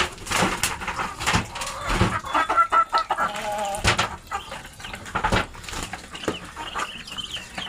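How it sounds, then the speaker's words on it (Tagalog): Chickens and ducks at feeding time on a rural backyard farm, with steady clucking and squawks close by, wing flaps and scattered feeding noise throughout. "Kain na yung mga pato at manok."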